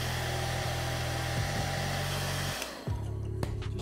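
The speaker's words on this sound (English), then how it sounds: "Let me hair dry this real quick." A hair dryer blows over wet oil paint, a steady loud whirring hum that dips and cuts out briefly near the three-second mark before resuming.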